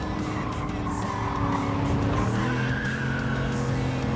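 Tires squealing under braking in Gran Turismo 7, a sustained loud screech over steady engine drone, the car twitchy at the rear when braking on an angle.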